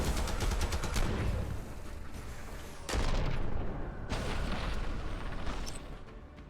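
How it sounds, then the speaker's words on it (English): Heavy mech gunfire in the video game Phantom Brigade, loud sustained bursts of rapid fire broken by short pauses, close and dense. "Guy just shot me even though it said it wasn't shooting me."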